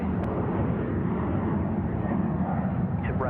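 A departing airliner roars steadily at Sydney Airport, a broad, sustained jet rumble heard from a moderate distance with no voices over it.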